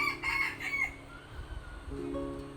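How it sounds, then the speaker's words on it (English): A rooster crows at a moderate distance in the countryside near Khao Sok, Thailand, a drawn-out call near the start, followed by quieter ambient noise and a faint steady hum. "Can you hear these roosters?"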